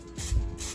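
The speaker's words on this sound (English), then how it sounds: "I'm gonna spray a little Pam spray in here" A short hiss of Pam cooking spray coated into a pan for pancakes, a single close burst lasting under half a second with light mechanical clicks around it.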